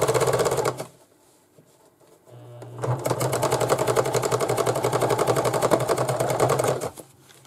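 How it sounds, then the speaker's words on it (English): A home sewing machine stitches fabric in a loud, rapid mechanical chatter, running in a short burst, pausing briefly, then running steadily for several seconds before stopping. "My sewing machine's a little loud."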